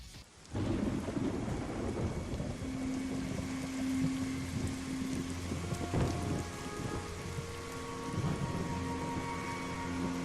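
Steady heavy rain and rolling thunder fill a cutscene from the video game Stranglehold, a dense downpour with low rumbles swelling and fading throughout, no voices.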